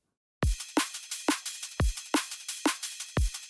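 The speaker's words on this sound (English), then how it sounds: "So without the processing, the drums sound like this." A dry, unprocessed drum and bass drum loop plays alone: deep kick thumps alternate with sharp snare hits under a steady hi-hat, in an even, mid-tempo groove.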